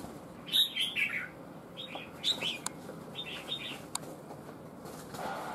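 A red-whiskered bulbul (chào mào), a trapped fighting bird, gives clear chirpy whistled calls in several short bursts, fairly close and loud against a quiet rustling background, with a few sharp clicks between phrases.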